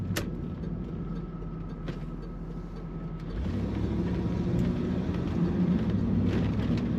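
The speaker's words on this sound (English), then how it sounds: "Nice running Camaro. Accelerates as you would expect. Good throttle response." A 1989 Chevrolet Camaro convertible with an automatic transmission idles steadily, then its engine note rises and swells as it accelerates, a continuous close rumble with no talking.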